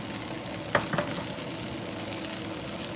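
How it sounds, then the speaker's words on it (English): Chicken fried rice sizzling steadily in a hot stir-fry pan, a continuous hiss with a brief scrape or clatter near the start and no talking. "We don't want to burn it, but we want it to get that good stir fry."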